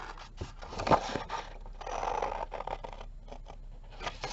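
Scissors cutting along a folded crease in scrap paper or fabric, close-up rasping snips and scraping in short uneven bursts with a longer continuous cut in the middle, no talk.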